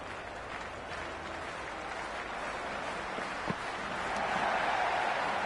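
A cricket stadium crowd in the Cricket 26 video game, at a T20 World Cup match between Zimbabwe and Australia, keeps up a steady wash of applause and cheering that swells slightly toward the end.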